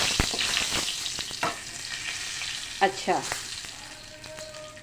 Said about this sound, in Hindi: ये सबसे पहले हम कढ़ाई में भगारेंगे ताकि ज़ीरा एक अच्छे से फ्राई हो जाए